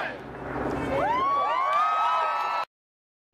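A crowd cheers and shouts with rising whoops that swell to a peak, then cut off abruptly. A rooftop piano-drop stunt is the occasion.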